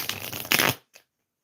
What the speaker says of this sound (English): I'm just shuffling some cards here.